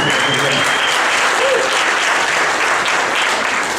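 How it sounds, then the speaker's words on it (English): Loud, close round of applause from a church congregation during a morning service, thick continuous clapping at full strength across the whole stretch with a faint voice briefly under it. "let's just show them a round of applause"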